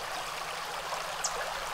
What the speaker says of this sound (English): I'll go rinse it off at the creek.